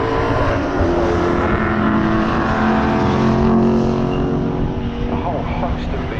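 Lotus 14 racing cars in pre-1966 touring car qualifying at Donington Park, their engines roaring loud and close in a steady, dense drone that rises and falls in pitch as they run past.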